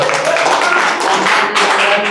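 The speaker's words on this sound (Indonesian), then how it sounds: "tepuk tangan buat Bandang" Short burst of applause for Bandang from a seated audience during a talk, steady and dense hand clapping throughout with a brief dip near the middle.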